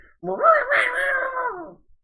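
A person's voice imitates a frantic, yowling cat, a single drawn-out wavering wail lasting under two seconds, close and fairly loud.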